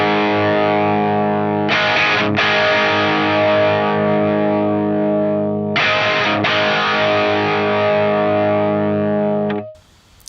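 Electric guitar played through a Fractal AX8 amp modeler with transformer match raised, giving a grindy distorted tone; sustained chords ring with two short rhythmic strum bursts, then fade out near the end, with no talking.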